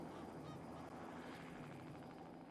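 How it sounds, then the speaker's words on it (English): A helicopter flies overhead in the zoo-building game Let's Build A Zoo, a steady faint rotor drone with rhythmic chopping pulses sustained throughout, no talking. "The helicopter's loud."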